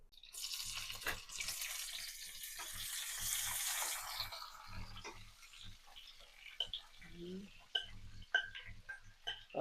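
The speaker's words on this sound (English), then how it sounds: "I always love when you saute vegetables, all the tomatoes and the color peppers" Tomatoes and colored peppers sauté in hot oil on an outdoor grill for Jamaican cooking, a broad hiss that swells loud and then settles into steady crackling, with voices talking over it and sharp clinks near the end.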